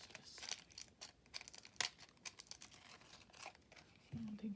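Paper torn by hand at a craft table, a few quick ripping and crinkling bursts with a sharper tear near the middle, fairly faint, with a soft low tone entering at the end.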